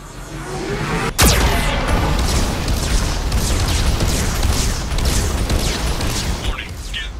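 Geth cannon fire in the Mass Effect 2 video game: a sharp whooshing blast followed by a continuous heavy roar of explosions and rumbling barrage, loud and dense throughout.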